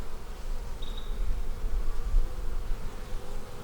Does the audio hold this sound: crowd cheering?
no